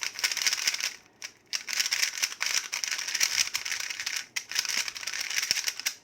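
Rapid, loud clicky rattling from a MoYu speed cube being turned, continuous bursts with a couple of short pauses, close up.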